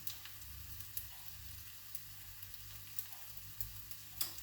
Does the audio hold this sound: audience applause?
no